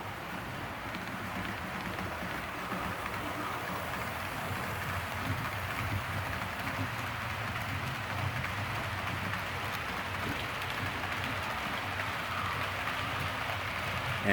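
Freight train passing by, a steady, distant-sounding broadband rumble and hiss of rolling cars holding level throughout with no distinct horn or clanks.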